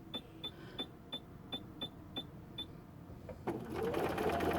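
A sewing machine quilts a row of stitches, each one a distinct evenly spaced tick, about ten in a steady rhythm, then a louder rush of motor and fabric noise takes over near the end.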